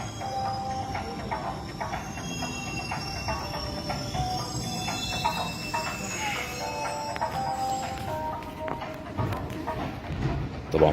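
Metro station ambience with a train bound for Helwan rumbling in, steady low roar and faint screeching tones, crowd murmur underneath.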